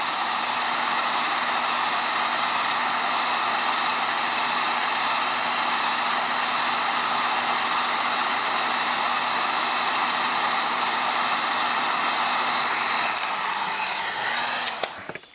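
A heat gun roars steadily and close up, warming PEX tubing for a camper fresh-water drain until it turns pliable, a constant blowing hiss that runs unbroken before cutting off near the end.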